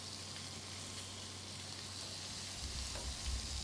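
Tiger prawns fry in a pan for a cheese prawn yi-mein dish, giving a steady, soft sizzle and crackle of hot oil throughout with no voices.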